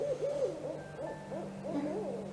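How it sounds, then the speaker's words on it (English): Soft hooting bird calls, like an owl, repeat several times as quiet nighttime ambience played during a tabletop roleplaying game, low and steady with a faint background drone. "It's just the quiet sounds of birds and insects going about their lives."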